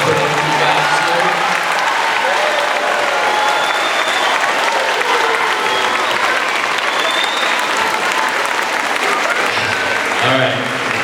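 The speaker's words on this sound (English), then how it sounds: "One big round of applause for Mr. Heffentrager, Ms. Olson" Audience applause at a middle school band spring concert, a loud, continuous roar of clapping from a full crowd that carries on for many seconds, with a few voices and cheers mixed in.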